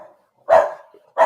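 Two loud, close dog barks, a sharp burst followed after a short pause by a second, with near silence between.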